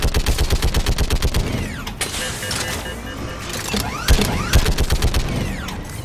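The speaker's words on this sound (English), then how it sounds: "I can't hear you over all the bullets that are flying" Rapid gunfire in the Mass Effect 3 Legendary Edition shooter, a fast rhythmic volley of bursts near and loud, broken by a couple of heavier single blasts and whooshing projectile sweeps, with no talk over it.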